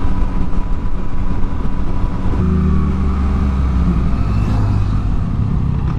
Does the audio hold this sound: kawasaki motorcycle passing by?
yes